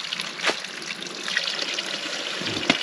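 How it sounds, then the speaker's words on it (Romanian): Spring water trickling softly and steadily, with a couple of brief splashy gurgles and no talking. "Să bem puțină apă de izvor."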